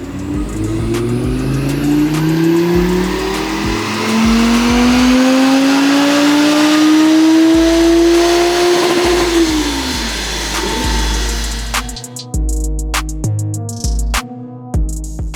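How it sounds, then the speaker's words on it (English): An Audi R8 engine revs hard on a dyno and climbs steadily in pitch under heavy load, then drops off and idles with rough, uneven bursts. "let's get this car on the dyno and see how much power it's making now"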